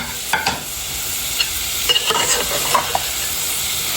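Dried fish and spices frying in a pan while being stirred, a faint continuous sizzle broken by a few quick scraping stirs near the start and middle.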